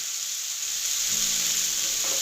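Julienned ginger hits a pan of sautéed vegetables in sauce, giving a steady, bright sizzle that holds throughout at close range, with no voices.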